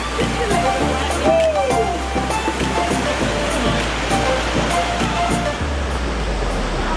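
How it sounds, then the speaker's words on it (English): Water rushes steadily at Saklikent waterfall in a Turkish gorge, a continuous broadband roar that stays loud and close throughout, with faint voices now and then. "This looks like this is the waterfall just round the corner."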